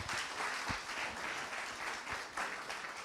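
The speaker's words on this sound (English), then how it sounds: "give a round of applause to our next speaker" Audience applause at a public police meeting as the next speaker is called up, a steady dense wash of many hands clapping throughout, moderately loud and filling the room without speech.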